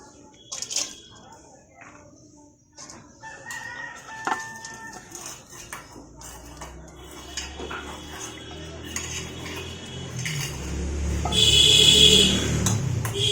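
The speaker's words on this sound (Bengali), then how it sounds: "এবার কড়াইতে দিয়ে দেবো এই যে আলু" Chopped potatoes tipped into a kadai wok while cooking Bengali ilish (hilsa) fish chorchori with potatoes, heard as clinking metal utensil sounds and a rising sizzle toward the end, with a talking voice over it.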